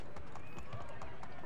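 Horse hooves running in the Assassin's Creed 3 video game, a quick rhythmic clip-clop of galloping steps under steady talking.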